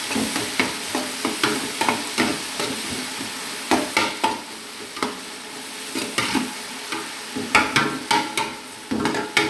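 Fish frying in a pot for Arab-style fried fish jollof rice: a steady sizzle broken by repeated clattering stirs and knocks against the pot, close and fairly loud, with no talking.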